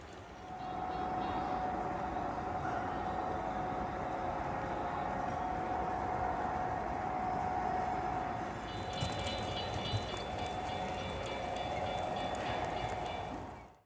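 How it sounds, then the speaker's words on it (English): A small model train runs steadily with a continuous rolling rumble and a faint whine, holding even loudness throughout with a brief rise in high clatter partway through, no voices. "I'm always drawn to model trains."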